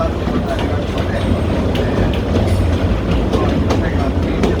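The Kurobe Gorge Railway train crosses the Shin-Yamabiko iron bridge, about 120 metres long over the Kurobe River, hauled by an ED10 locomotive with passenger cars. Dense, close rumbling and clattering of wheels on the bridge runs steadily throughout.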